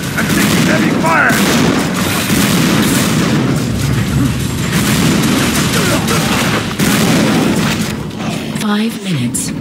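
Heavy gunfire rages in an Unreal Tournament III capture-the-flag match, a dense, loud, continuous barrage of shots and booms lasting throughout, with a sharp sweeping effect near the end.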